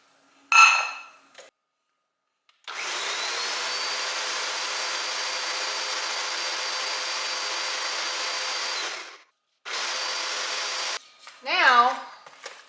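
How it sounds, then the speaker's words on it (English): A blender blending homemade Tabasco pepper hot sauce runs steadily for about six seconds with a loud, even motor whir, stops briefly, then starts again for a short burst; brief clinks at the start and end. "Gonna blend it up."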